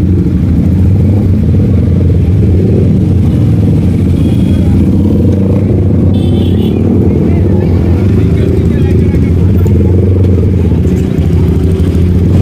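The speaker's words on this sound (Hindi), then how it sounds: "सुपर बाइक का साउंड सुन लो आप लोग।" A loud, close motorcycle engine idles and revs continuously, with a deep throbbing rumble that stays strong throughout.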